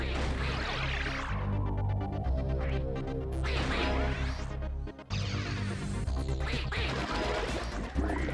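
Loud synthesized duck quacks from the Nintendo 64 puzzle game Wetrix, repeating over busy game music with crashes and whacks, and no talking.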